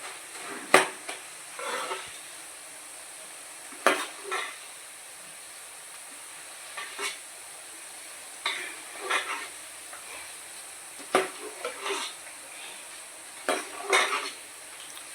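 Boondi for motichoor ladoo frying in oil, a faint steady sizzle underneath. Spaced metallic clinks and scrapes of a spoon or ladle against the pan stand out above it, with no talking.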